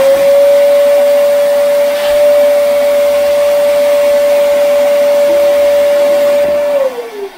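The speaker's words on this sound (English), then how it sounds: "now we'll take the vacuum cleaner" A vacuum cleaner sucks hard carbon out of a Harman pellet stove, a loud, steady whining hum that holds for several seconds before winding down at the end.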